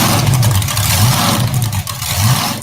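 The Bigfoot 14 monster truck's engine revs loud and close, a rough roar that rises and falls in several throttle surges, captured on an iPhone 7 with heavy wind-like noise across the whole recording.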